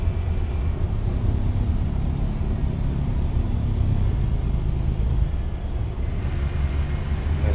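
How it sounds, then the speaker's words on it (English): A Peterbilt truck engine in American Truck Simulator drones steadily at a constant low rumble throughout, with a faint rising whine in the middle and no talking. "Roll the window down. You guys can hear this truck."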